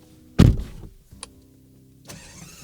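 A Ferrari 12Cilindri V12 fires up with a sharp, loud burst, then settles into a steady low idle rumble heard from inside the cabin, with a brief click and a later swell.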